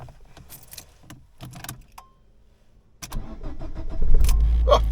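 A 2009 Fiat Panda is started after sitting unused for ten days: keys jangle and click, then the starter cranks and the engine catches into a close, rumbling idle.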